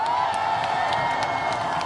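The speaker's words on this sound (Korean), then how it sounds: "박수 주세요." A large outdoor crowd at a political prayer rally near the National Assembly in Yeouido, Seoul, cheers and applauds in a steady, dense roar with scattered whoops, heard from within the gathering.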